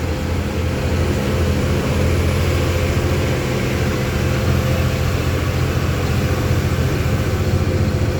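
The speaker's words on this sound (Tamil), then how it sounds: "நம்மளை ஓவர்டேக் பண்ணி போகிற வண்டி ஆந்திரா வண்டி அது பத்து வீல்" A ten-wheel truck from Andhra passes on a forest road in Odisha's Rambha area, heard as a steady, loud low engine drone with continuous road rumble that holds throughout without pause.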